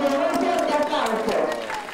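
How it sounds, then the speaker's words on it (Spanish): A school crowd applauds for Flag Day, steady dense clapping throughout with voices mixed in, fairly loud and close. "un fuerte aplauso por el Día de la Bandera"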